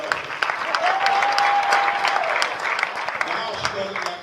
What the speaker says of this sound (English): Let's give Bernita a round of applause for listening to her